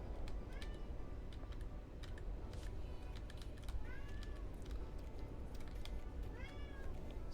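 A house cat called Screamy Kitty meows several times, with short rising cries spread across the stretch, over faint keyboard tapping and a background hum.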